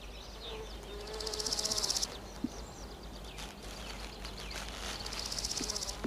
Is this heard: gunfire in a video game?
no